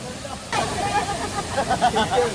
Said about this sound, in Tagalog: We're here at Talay Falls